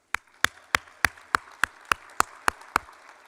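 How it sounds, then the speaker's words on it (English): At the 2023 USEF Pegasus Awards, an equestrian awards ceremony, one person claps about ten times in a steady, even rhythm. Each sharp, close clap rings out clearly against near silence. "let's hear a round of applause for the incredible level of shared equestrian excellence we are sitting amongst in this room right now"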